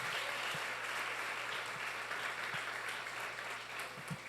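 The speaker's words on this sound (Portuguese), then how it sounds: "Aplauda o Senhor por isso." Congregation applause at a church service, a steady broadband wash of clapping at moderate level with a low hum running underneath, continuous throughout.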